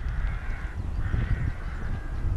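Rooks cawing at a woodland rookery, a couple of drawn-out calls at a moderate distance over rough wind rumble.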